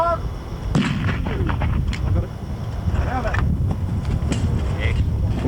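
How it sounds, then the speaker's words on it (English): A single detonator goes off inside a steel ammunition tin, giving a muffled, distant-sounding blast over steady wind noise, with voices audible outdoors. "We're going to place a detonator inside of it to display the confined effects of a detonator going off, and it should fairly well pull the tin apart."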